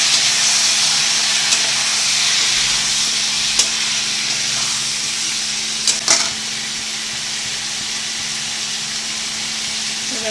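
Chili powder and cumin fry in a pan, giving a loud, continuous hiss and sizzle with a few faint taps from stirring, and no talk.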